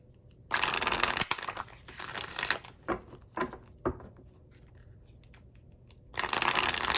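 Tarot cards are shuffled close to the microphone in quick riffling bursts, separated by soft taps and pauses, then another riffle at the end.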